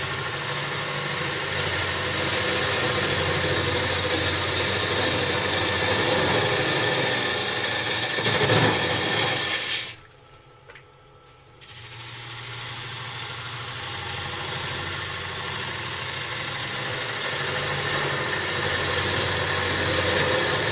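A wood lathe hums steadily at close range while a goblet is turned, the drone broken by a brief quiet gap midway before running on again, no voices.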